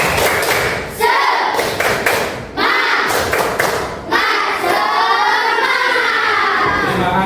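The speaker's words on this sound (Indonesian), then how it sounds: "kita akan tepuk semangat dulu. Tepuk semangat." Schoolchildren in a classroom perform a rhythmic spirit clap, loud group clapping in sharp patterned bursts with brief pauses, followed by chanted voices of the class.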